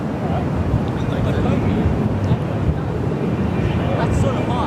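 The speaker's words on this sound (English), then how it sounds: "Another Fokker 100 here, and of the Qantas Link variety" A QantasLink Fokker 100 jet on runway 03 at Perth Airport sends out a steady, broad engine roar that holds constant throughout, mixed with wind buffeting the microphone.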